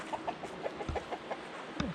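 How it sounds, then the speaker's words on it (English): Chickens in a chicken coop cluck softly in quick short bursts, several faint calls in succession with a couple of low thumps, fairly quiet and close. "And here's the chicken coop."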